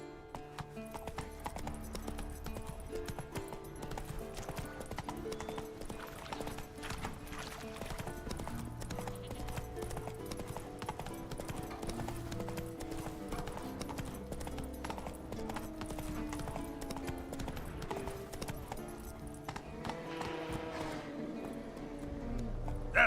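Hooves of Roach, a horse in The Witcher 3, clip-clop in a steady galloping rhythm throughout, with game music and an occasional whinny layered underneath.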